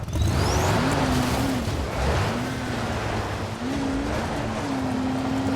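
Car engine in Dying Light, a steady loud motor drone with a rising and falling whine as the vehicle revs and shifts, over rushing road noise.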